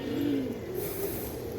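Racing pigeons coo nearby, a low rolling call rising briefly over a steady background hum.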